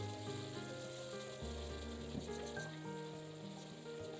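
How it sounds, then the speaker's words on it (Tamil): Two large, finely chopped onions sauté in a pan for an egg side dish, giving off a soft, steady sizzle with a faint hum in the background. "இது கூட பொடியாக நறுக்குன 2 பெரிய வெங்காயம் சேர்த்து நல்லா வதக்கிக்கங்க."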